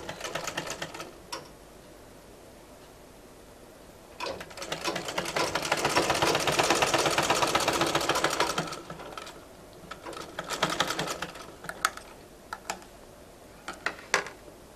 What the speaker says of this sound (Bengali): এরপর এখন যে আমি আরেকটা সেলাই দিব এটাও কিন্তু দেখার বিষয়